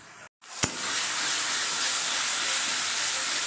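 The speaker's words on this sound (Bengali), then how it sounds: "এবার আমি ফুলকপি আলু ভাজাটা দিয়ে দেবো।" Fried potatoes and cauliflower drop into hot cooked masala for a fish curry, a short clatter followed by a steady loud hiss of sizzling that continues to the end.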